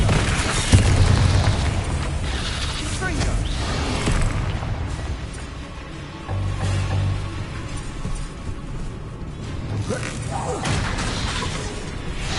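Bombarda, the blasting spell in Hogwarts Legacy, sets off a series of deep booming explosions with rumbling debris and mechanical clatter, recurring loudly over continuous game noise.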